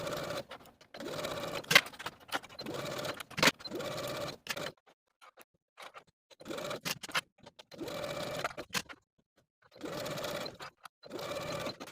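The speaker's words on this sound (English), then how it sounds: "Then sew those sleeves in place with a 5/8 inch seam allowance" A sewing machine stitches sleeves into armholes at a 5/8 inch seam allowance, running in short rattling bursts separated by brief pauses, close and alone without speech.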